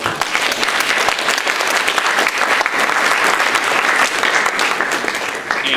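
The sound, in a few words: audience applause for faculty and staff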